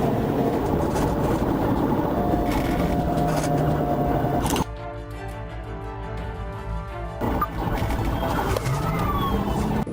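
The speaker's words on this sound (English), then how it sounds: "Sirens wailed behind him, but he didn't flinch." Police car sirens wail during a high-speed chase, a loud, continuous rising and falling tone over dense road and engine noise, with a brief cleaner stretch in the middle where the siren tone stands out.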